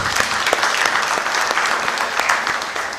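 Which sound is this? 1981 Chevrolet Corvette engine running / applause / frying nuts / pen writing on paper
applause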